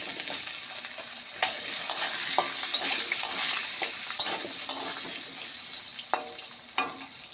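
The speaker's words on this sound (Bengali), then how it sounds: "আলুগুলো ভাজা হয়ে গেছে আমি তুলে নেব" Potatoes fry with turmeric in oil in a wok, a steady bright sizzle broken by repeated sharp scrapes and clinks of a stirring utensil, close and with no talk.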